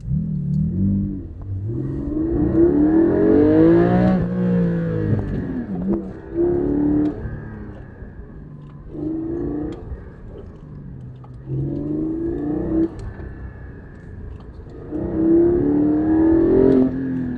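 A Porsche GT4 engine drones and revs in repeated surges on a public road, rising and falling in pitch as it accelerates and shifts, heard from inside or close by.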